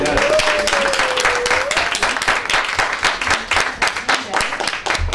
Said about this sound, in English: Let's give another final round of applause